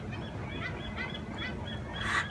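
Outdoor birds call in a steady, busy ambience, with a louder burst of honking, goose-like calls near the end over continuous background noise.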